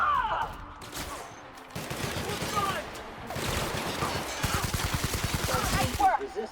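Rapid automatic gunfire from an assault-rifle-type weapon in The Outer Worlds, loud bursts of repeated shots running through most of the stretch amid game sounds and a voice talking.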